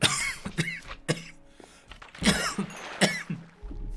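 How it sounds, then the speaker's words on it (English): Several harsh, close coughs in quick succession with throat clearing between them, loud and raspy. "I'm so sorry for coughing into that."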